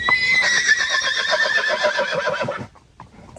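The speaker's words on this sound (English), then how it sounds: "You're not going to squeal and give away the fact you've got a different neigh." A horse lets out one long, loud, quavering whinny close by, fading out after about two and a half seconds, followed by a short quiet tail.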